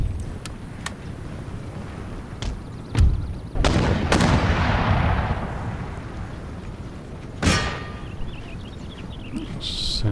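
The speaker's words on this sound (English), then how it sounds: "They've obviously got some cannon." Cannon fire during a battle near Baghdad in Empire: Total War, several booming shots at intervals, a couple close and heavy with rolling decay, others thinner and more distant, over a low battlefield ambience.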